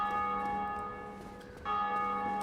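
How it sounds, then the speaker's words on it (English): Bells ring inside the video game Dark Souls, a few soft, sustained metallic tones sounding at a distance over a low ambient bed, with a fresh strike swelling in near the end. "these bells that you hear ringing are actual people playing the game"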